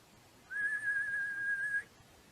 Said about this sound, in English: Whistle then to me, as signal that thou hearest something approach